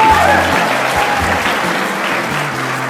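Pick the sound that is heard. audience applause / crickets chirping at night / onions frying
audience applause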